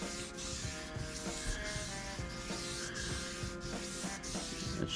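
Sandpaper rubs back and forth across a guitar neck to buff out surface scratches, a steady, close, hissing scrape with soft rhythmic strokes.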